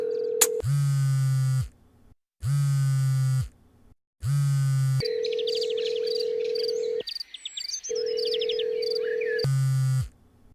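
A phone ringback tone repeats in long even pulses with short silent gaps, ringing on and on without anyone picking up, while chirping creatures sound faintly behind.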